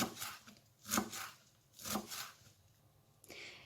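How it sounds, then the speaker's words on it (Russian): Knife chopping fresh herbs on a board in short bursts of quick strokes, three clusters with pauses between, fairly close and moderately loud. "Зелень мы измельчаем"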